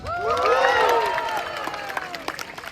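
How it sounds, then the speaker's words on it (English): A crowd cheers and claps for volunteers at a birds-of-prey show at African Lion Safari, rising loud at first with whistly shouts, then fading over a few seconds. "who's cheering for our volunteers?"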